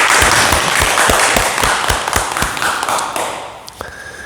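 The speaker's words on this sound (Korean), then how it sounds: "오늘 좋은 질문 해준 우리 원장님께 박수 부탁드립니다." Audience applause in a room during a talk, a loud, dense burst of clapping with steady rhythmic claps that gradually thins out and fades toward the end.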